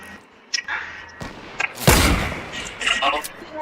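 Gunfire, including a sniper shot, in a multiplayer mobile game, with one loud, sharp blast standing out among smaller thuds and clicks while players talk in French.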